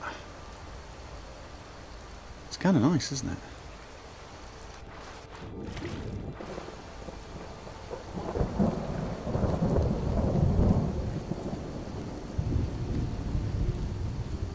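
Rain falls steadily in Skyrim while thunder rumbles, with one sharp crack early on and a longer rolling peal later. Someone speaks briefly over the storm.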